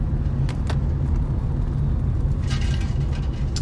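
A car driving on the road toward Quezon City gives a constant low rumble of engine and tyres, heard from inside the cabin with faint light rattles, and nobody speaks.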